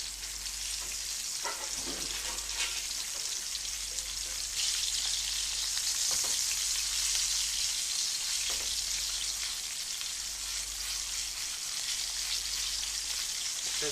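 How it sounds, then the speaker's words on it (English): Flounder frying in a pan gives a long, steady, crackling sizzle, close and even, with occasional knocks and no talk. "It's very quick to cook our flounder."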